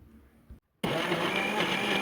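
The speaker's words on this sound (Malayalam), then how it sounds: "ഇനി നമുക്ക് മിക്സിയിൽ വെച്ച് ഒന്ന് അടിച്ചെടുക്കാം" After a brief pause, a mixer grinder blending an apple milkshake with ice cubes whirs loudly and steadily, a dense motor roar that continues to the end.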